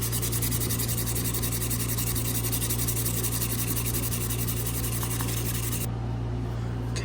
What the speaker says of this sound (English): we are fixing to sand this down